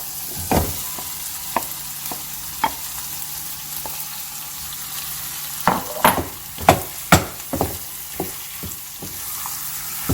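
Potatoes fry in a pan for Hyderabadi aloo lukhmi, a steady sizzle running underneath as a spoon scrapes and stirs, with sharp clatters of the utensil against the pan at irregular intervals, clustering near the end.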